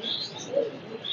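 A single short, soft coo comes from a breeding pigeon that flew from a rooftop for nine years, heard close and alone against quiet background.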